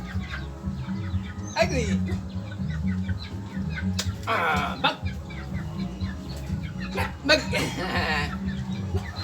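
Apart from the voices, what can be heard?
chickens clucking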